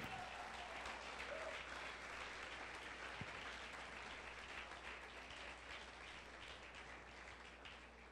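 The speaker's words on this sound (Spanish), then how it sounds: "Si va a aplaudir a Dios, aplauda con regocijo." Steady, fairly distant clapping from a church congregation fills the whole stretch, an even, continuous patter of many hands without speech.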